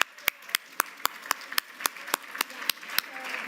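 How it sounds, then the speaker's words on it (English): A single person claps at a steady rhythm, about a dozen sharp, evenly spaced claps over a faint background hum at a virtual summit, fairly quiet and close with no crowd applause. "Let's give her a round of applause."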